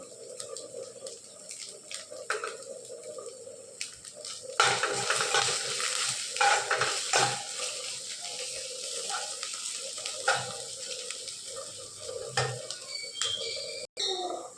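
Spices, including Kashmiri chilli powder and cumin powder, frying in a pan, with a steady sizzle and stirring scrapes that grow louder after a few seconds and continue throughout.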